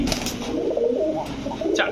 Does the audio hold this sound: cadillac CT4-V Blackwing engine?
no